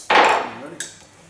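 Hammer strikes on a center punch set into the middle of a wooden gun stock of a Remington 11-48: one loud sharp metallic hit followed by a lighter second tap, close up.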